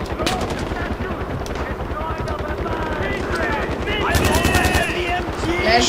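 Sustained automatic gunfire from a Far Cry 4 firefight, rapid bursts overlapping with a helicopter-like drone, loud and continuous throughout with players shouting over it.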